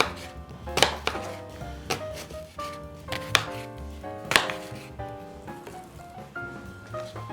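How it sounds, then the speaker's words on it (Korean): Apples are chopped finely with a knife on a board for a baked oatmeal, in a series of crisp, close, irregular cuts and taps with a faint hum in the background. "사과 파이를 하듯이 잘게 썰어서 원하는 크기대로 썰어주시면 되겠습니다"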